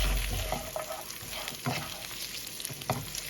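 Onions fry together with mutton in a pot with a soft, continuous sizzle, broken by a few scraping stirs of the spoon.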